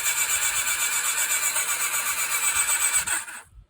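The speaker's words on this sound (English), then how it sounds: "So the engine is spinning, which is definitely a good sign." A spare Suzuki GSX-F motorcycle engine from a damaged parts bike cranks over on its starter, giving a steady, close, high-pitched whirring whine for about three seconds before it abruptly stops.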